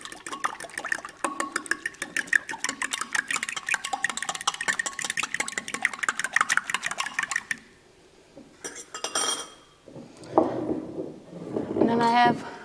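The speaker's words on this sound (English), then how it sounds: "Let's whisk it up." A whisk clatters rapidly against a bowl while scone mixture is mixed, a fast rhythmic ticking for several seconds, followed by a pause, scattered clinks and a voice speaking.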